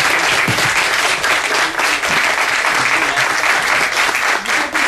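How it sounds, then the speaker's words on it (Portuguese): An audience applauds musicians standing at a samba show at the Usina do Gasômetro, dense, loud clapping sustained evenly throughout with a faint crowd murmur underneath. "Eu queria que os músicos se levantassem para a gente também fazer uma salva de palmas para eles"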